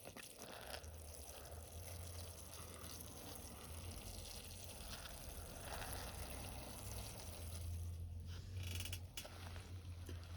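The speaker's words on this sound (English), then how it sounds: "So let's get some water on these." Water poured onto germinating seeds in a container indoors, a steady low gushing and trickling flow with occasional creaks from the container, no talk.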